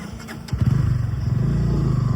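A 160cc motorcycle running at about 60 km/h on a road, its engine droning loud and steady with a rhythmic pulsing and rising slightly, alone with no talk.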